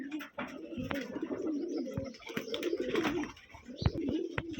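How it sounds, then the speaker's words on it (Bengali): Tumbler pigeons on an old-generation pigeon farm in Rajshahi coo in overlapping, throaty bursts, with soft rustling and a few sharper knocks close by, steady and moderately loud throughout. "সবগুলো উড়াবাজির কবুতর"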